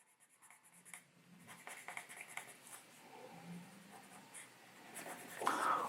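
Pencil or pen scratches lightly across paper as a drawing is made freehand without a sketch, soft irregular strokes close up, rising to a brief louder scrape near the end.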